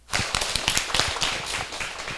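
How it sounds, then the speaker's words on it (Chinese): An audience in a lecture class claps to welcome a speaker, a short, close burst of applause with individual claps sharp and distinct. "请掌声欢迎，谢谢。"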